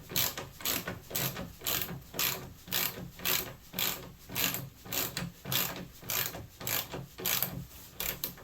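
A ratchet wrench tightens a bolt while installing a ski in a home garage, giving a steady run of rapid clicking bursts, each stroke a loud close rattle of pawl clicks repeating in an even back-and-forth rhythm with no talk.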